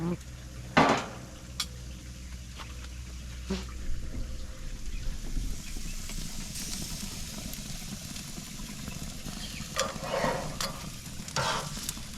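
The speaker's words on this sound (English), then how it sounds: "these are all of our veggies we're gonna grill with a little bit of olive oil and salt and pepper in it" Vegetables tossed with olive oil, salt and pepper sizzle softly on a grill, with occasional scrapes and clanks of utensils and a person talking nearby.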